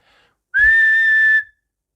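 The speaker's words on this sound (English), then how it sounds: "put 2 fingers in his mouth, and lit out that very large whistle of his." A loud two-finger whistle rings out once, a single shrill sustained tone lasting about a second with a slight upward lift, close and alone.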